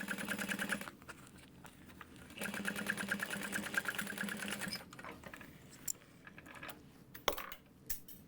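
A sewing machine stitches around a bag in bursts of rapid whirring, stopping and restarting, with small clicks and taps between runs at close range.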